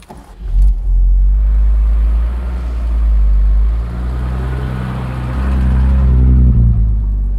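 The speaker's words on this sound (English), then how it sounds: "Ooh, this 1968 Mercedes drove like it just came off the showroom floor." Restored 1968 Mercedes car on a test drive, a steady low engine rumble and road noise rising and easing as it accelerates, close and loud with no talk.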